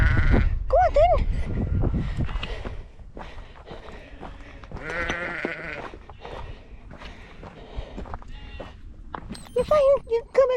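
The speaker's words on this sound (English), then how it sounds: "We found the sheep." Sheep bleating in a field, several distinct bleats spaced over the stretch, moderately near, with people talking and wind noise around them.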